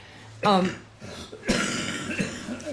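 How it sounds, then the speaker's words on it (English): A person coughs a few times in short, harsh bursts, close by, with some breathy throat sounds after. "You really need to cough that stuff out."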